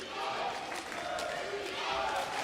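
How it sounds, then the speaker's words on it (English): A packed arena crowd roars steadily at a men's European Championship basketball game between Türkiye and Poland in Sarajevo, a dense, continuous wash of cheering with a voice faintly present. "Lots of noise from the crowd today."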